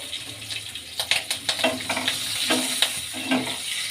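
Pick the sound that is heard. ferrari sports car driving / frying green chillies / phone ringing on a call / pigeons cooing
frying green chillies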